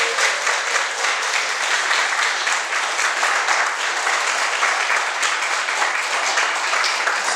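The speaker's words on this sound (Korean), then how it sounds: "우리 크게 박수로 맞이하겠습니다." A church congregation applauds loudly and steadily to welcome a returning missionary to the pulpit, a dense, even wash of clapping throughout with no talk over it.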